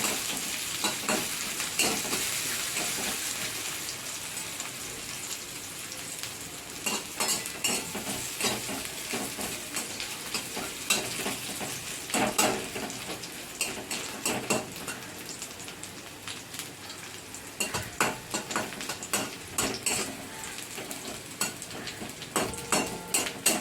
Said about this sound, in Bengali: পেঁয়াজটা ভাজা হয়ে গেছে হালকা বাদামি কালার হয়ে গেছে